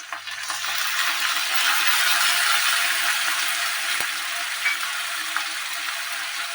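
Masala with tomato paste sizzling and frying in a pan for snakehead fish kalia, a steady close hiss with faint occasional stirring scrapes, no talk.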